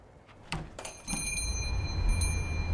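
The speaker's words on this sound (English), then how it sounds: "I hear the bells jingle over the door" Small bells jingle over a shop door as it opens at closing time in a store with a coffee area, a bright cluster of chimes followed by a faint ringing tail over a low hum.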